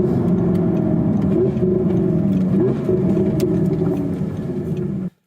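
An Audi R8 V10 Plus engine revs hard toward its 8,000 rpm top end, a loud, close, sustained high-pitched roar with rising and falling pitch that cuts off abruptly near the end.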